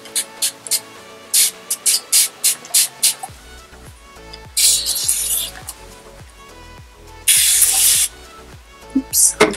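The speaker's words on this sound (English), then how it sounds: "I'm trying not to spray my mirror because I need to see" Quick bursts of a spray bottle misting water onto natural hair in twists, a rapid series of short sprays followed by two longer hissing sprays, with faint handling noises between.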